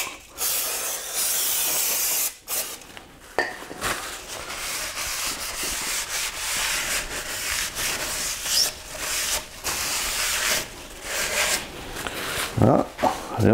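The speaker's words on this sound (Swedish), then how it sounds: "Sen tar vi sprayar andra sidan här." Cleaner sprayed onto the rear brake of a Volvo V70, a steady close hiss running through most of the stretch with a few short breaks and light rubbing noises.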